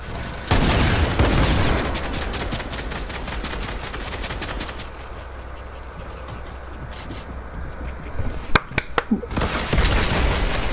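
Shotgun blasts from the side in Fortnite: loud, sharp reports opening a dense stretch of rapid gunfire, easing off, then a fresh burst of closely spaced shots near the end.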